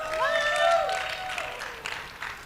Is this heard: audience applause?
yes